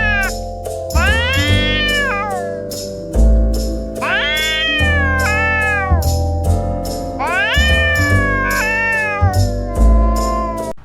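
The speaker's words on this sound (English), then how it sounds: "the cat growled, a thunderous growl resounding in the air" Cats fighting on tree branches give loud, drawn-out yowls and caterwauls that rise and fall in pitch, with several long wailing cries in succession over a steady background hum.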